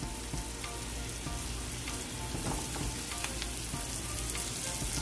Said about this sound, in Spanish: I'm going to go ahead and add my squash.